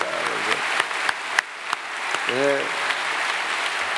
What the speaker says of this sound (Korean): 그래서 국민일보 박수 감사합니다.